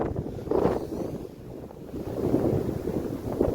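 Gusty wind buffeting the microphone outdoors on a farm field, rising and falling in low rumbling bursts.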